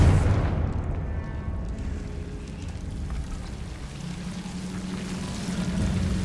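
A Confringo fire spell explodes in Hogwarts Legacy, starting with a loud booming burst that settles into a sustained, rumbling roar of crackling fire and debris lasting several seconds.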